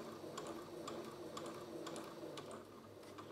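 A sewing machine runs steadily while back tacking a seam on a fabric bucket, a soft even whir carrying regular light clicks of the needle, close and quiet with no talk.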